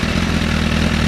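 Motorcycle engine letting off the throttle, a steady deep exhaust rumble with a low throbbing pulse, close and continuous for about a second with no talk.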